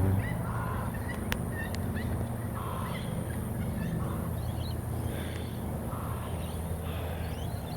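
Flock of ibises calling, with a couple of cormorants nearby, a scatter of faint honking and grunting calls at a distance over steady outdoor background noise.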